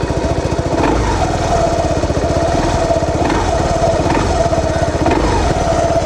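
A Voge SR3 250cc motorcycle engine runs close and loud with a rapid, even putter, its steady beat overlaid by a faint ticking and a few brief rises in revs.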